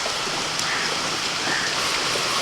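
White cooking oil heats in a pan with a steady, dense sizzle, a continuous hiss like light rain that holds evenly throughout with no voices.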